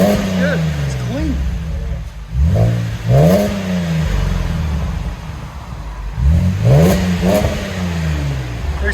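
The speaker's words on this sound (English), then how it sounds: "2011 Chevy Camaro with S-type BORLAs. Axle back. That's what it sounds like." Loud close-up revving from a 2011 Chevy Camaro RS 3.6L V6 fitted with a Borla S-Type axle-back exhaust, several sharp throttle blips rising and dropping over a rumbling idle, with people talking between revs.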